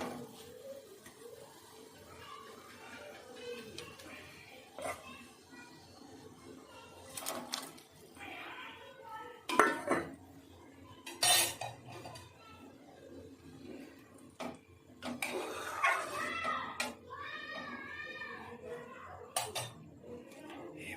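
Mango pieces dropped one at a time into sugar syrup in a cooking pot, heard as a series of separate clinks and clatters of utensil against pot with scraping in between, fairly quiet, with faint voices now and then.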